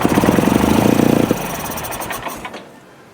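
A Bolens HT20 large-frame garden tractor engine cranks over rhythmically, catches and runs loud and close, then winds down to a lower, rougher sputter as the clip ends.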